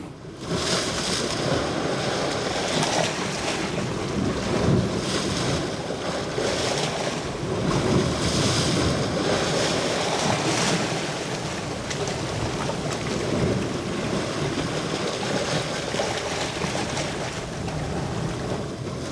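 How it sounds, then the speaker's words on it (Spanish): Sea waves break on the rocks of a shore in a steady, dense roar with strong wind noise throughout, loud and continuous, with no talk. "La fuerza con la que las olas rompen sobre las rocas depende de muchos factores"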